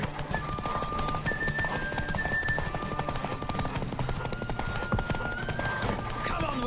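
Rapid, steady clip-clop of galloping hooves in The Witcher game runs throughout, with occasional whinnies, over a dense wash of background music and effects.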